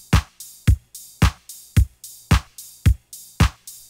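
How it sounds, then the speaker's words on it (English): A steady electronic drum loop from a song repeats alone, with punchy kicks on each beat and crisp closed and open hi-hats alternating between them. "You have a closed hi-hat and an open hi-hat alternating, and you have a kick for every beat"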